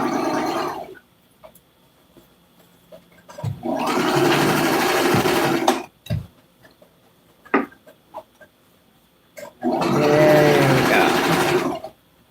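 A sewing machine stitches a patriotic apron with deep pockets in two long, steady bursts of close mechanical whirring, separated by a quiet pause with small clicks and handling sounds.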